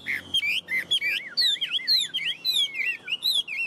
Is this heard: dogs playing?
no